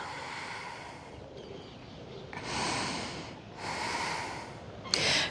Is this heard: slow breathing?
yes